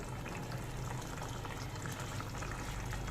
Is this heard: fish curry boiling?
yes